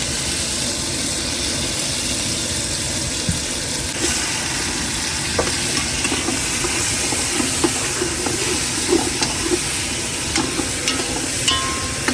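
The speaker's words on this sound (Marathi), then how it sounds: "चला आता आपण शिंगाली तेलामध्ये शिजवून घेऊ, हलकीशी तेलामध्ये शिजवून घेऊ." Catfish frying in oil aboard a fishing boat off Mumbai, a dense continuous sizzle and hiss with scattered pops and crackles, close and loud, with an engine-like rumble underneath and no talking.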